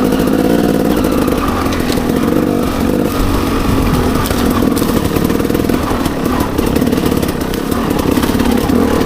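Dirt bike engine running on a wooded trail, a loud, close, throbbing motor with rough pulsing revs that rise and fall continuously.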